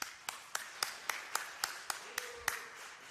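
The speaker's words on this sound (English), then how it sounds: "Can we all give her a round of applause?" Sparse, faint clapping at a city council meeting, about a dozen evenly spaced claps from a small audience, distant and thin rather than full applause.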